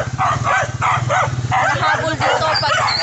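Several dogs bark in quick repeated bursts on a rural roadside in Bohol, Philippines, loud and near over a steady engine hum, with people talking.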